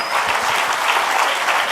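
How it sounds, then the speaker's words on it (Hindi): A crowd at a direct-selling event in Mumbai gives dense, sustained applause during a standing ovation, loud and close with no speech over it. "तालियों की गूंज मलेशिया तक जानी चाहिए"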